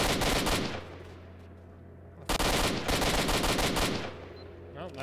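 Rapid automatic gunfire in S.T.A.L.K.E.R. Shadow of Chernobyl rings out in two dense, close, loud bursts separated by a short lull, each a fast rattling stream of shots with ringing echoes.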